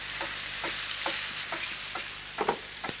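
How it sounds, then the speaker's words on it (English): Chopped tomatoes hit rice already coated in olive oil in a paella pan, giving a steady sizzle with a few louder stirring scrapes and pops, near and continuous, with no voices. "Then we're going to put in some tomatoes,"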